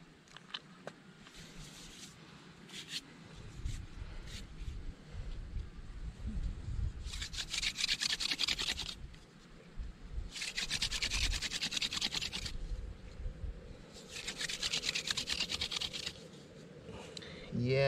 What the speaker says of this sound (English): Hand drill is one of those things that the more calluses you got on the hands, the better.